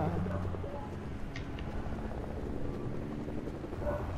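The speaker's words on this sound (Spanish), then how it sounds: "Acabo con el helicóptero" Helicopter rotor chop in the Fortnite video game, a steady low thrum running the whole time under game sounds, with faint voices.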